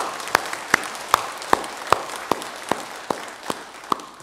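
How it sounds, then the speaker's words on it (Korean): A church congregation claps together in slow unison, around ten evenly spaced crisp claps over faint room hiss, moderately distant. "하나님께 영광의 박수를 좀 올려드리겠습니다."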